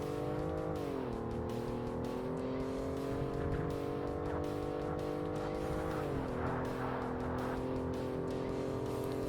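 A race car in Forza Motorsport slides into heavy oversteer under too much throttle, its engine droning steadily with a sustained tire squeal and shifting pitch as the car skids.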